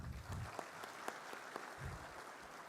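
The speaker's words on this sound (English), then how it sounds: "A round of applause for Mr." An audience at a university technical festival in India applauds a speaker being introduced, a soft, distant wash of clapping with a few sharper claps and faint low murmuring underneath.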